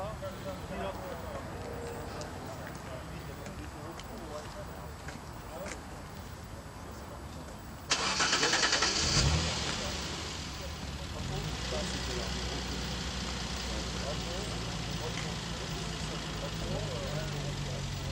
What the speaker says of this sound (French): On va rallumer la bagnole